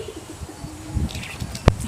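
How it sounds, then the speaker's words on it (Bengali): Rain-soaked pigeons cooing on a rooftop under a cloudy sky, a few soft low coos close by, ending with a sharp bright knock or flap. "কবুতরগুলো ভিজে একেবারে জবজবে হয়ে গেছে"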